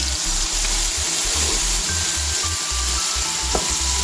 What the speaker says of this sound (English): Now allow it to fry for some time.